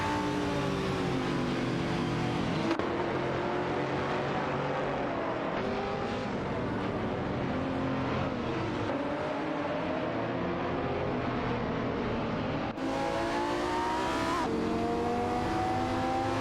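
Several Aston Martin DBS9 race cars duel in a video game race, engines droning and revving loudly and continuously, with rising gear-change whines, shifting pitch as cars jostle, and occasional tire squeal, no voices.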